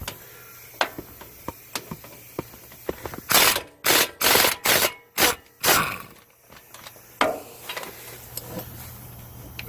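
Ratchet clicking while loosening the 15/16 caliper mount bracket bolts on the front disc brakes of a 1999–2004 Ford F-250 4x4, with a run of rapid loud bursts mid-clip amid scattered single clicks and taps.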